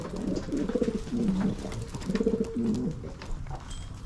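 Damascus pigeons kept in Berlin coo in close, repeated rolling phrases, two clear bursts of soft throaty calls over quiet background.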